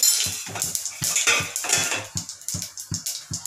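Hot mustard and cumin seeds crackle in oil in a pan while a lid is put on, giving sharp metallic clinks and a run of quick, close, evenly spaced pops and taps.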